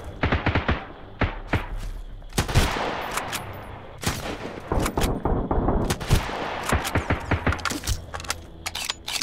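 Rapid automatic gunfire in the survival game Sunken Land, loud close bursts of shots in quick rattling strings with short pauses between volleys, continuing throughout with no talk.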